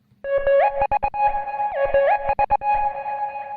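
A synth lead plays a melody with rapid stuttering chops, the sound cutting in and out in quick bursts, loud and close with no voices.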